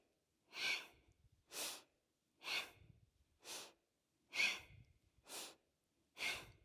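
Slow, deliberate yoga breathing through alternating nostrils, seven strong breath bursts spaced about a second apart, each an airy inhale or exhale close to the mic, with no talking.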